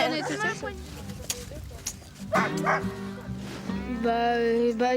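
Sled dogs in harness training bark, yip and whimper in quick excited bursts close by, mixed with people talking.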